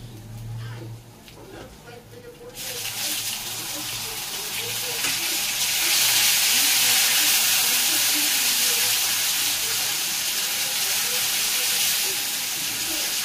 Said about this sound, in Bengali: গ্যাসটাকে হালকা করে এগুলোকে আদাটাকে ভাজবে